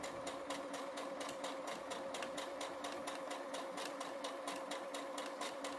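A sewing machine runs in one continuous, even stitching pass down a marked line on half-square triangle fabric, its rapid regular needle clatter steady and close with no voices.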